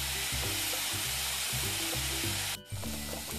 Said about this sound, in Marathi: आता थोडासा परतून झालाय ना कांदा.